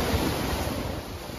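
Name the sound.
sea waves below a cliff, Siquijor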